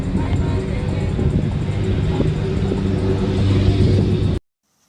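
A car drives around on the road, a steady loud interior rumble of engine and tyres that swells slightly before cutting off abruptly.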